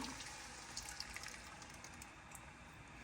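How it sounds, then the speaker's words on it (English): Tomato juice poured into a pot of chili makes a steady, faint liquid rush and splash that runs on continuously without talk. "We're going to open our tomato juice and pour that in."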